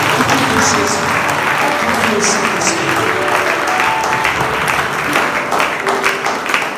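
Church congregation applauding during a prophetic worship service, a steady wash of clapping that holds for the whole stretch, with voices and some tonal sound mixed underneath.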